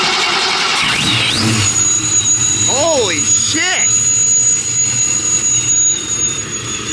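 A cammed Honda Civic hatchback with no catalytic converter revs loudly close by, its engine note rising and falling in sharp swoops, while a man exclaims over it.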